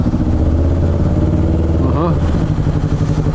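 A motorcycle passing in city traffic near a bus lane, a mid-pitched engine rumble running steadily beneath a rider's voice with a brief rising rev midway.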